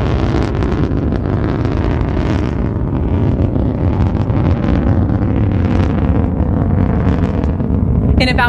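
Blue Origin New Shepard rocket on the NS-17 flight lifting off, a loud, steady, broadband roar with deep rumble and wind-like buffeting that continues without a break.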